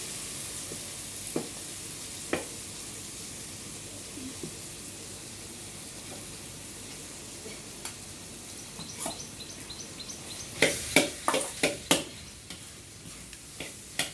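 Paneer goes into roasted masala in a pan: a faint, quiet sizzle at first, then a cluster of louder clinks and stirring knocks near the end.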